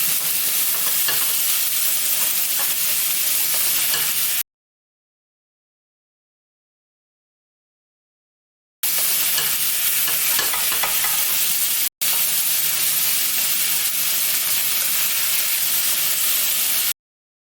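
Chives and onion stir-fry briefly in a hot pan, giving a steady broadband sizzle and scraping stir in two stretches separated by a few seconds of total silence, with no talking.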